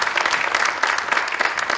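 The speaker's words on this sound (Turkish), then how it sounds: "Büyük alkışlarınızla." Steady, dense applause from an audience at an academic awards ceremony, welcoming a university rector back to the stage; continuous clapping fills the room without a break.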